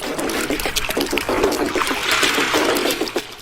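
A river's strong current rushes past, a dense, steady wash of churning water with constant splashing, loud and close, no voices over it.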